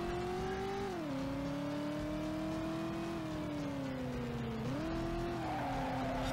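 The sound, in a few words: car accelerating in the video game Driver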